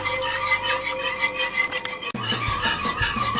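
A whisk scrapes steadily around a cast iron pan of thickening bacon gravy, a close, continuous rubbing rasp with one brief break partway through.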